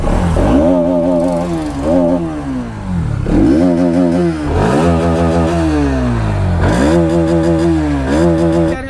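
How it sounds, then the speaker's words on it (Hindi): A 2024 Bajaj Pulsar NS200 motorcycle engine revs up and down repeatedly, loud and close, the exhaust rising in pitch with each throttle blip then dropping back to idle. "सबसे पहले मैं आपको NS200 का एग्जॉस्ट नोट सुनाता हूँ भाई।"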